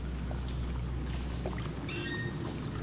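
Water splashing and pouring under footsteps wading through the River Thames in London in the Sherlock Holmes: The Devil's Daughter game, a steady close wet sloshing over low rumble, with no talk.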